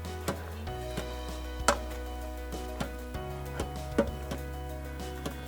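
Cooked chicken being stirred and chopped inside an Instant Pot, with irregular soft taps and scrapes of a utensil against the pot over a steady low hum, moderately close.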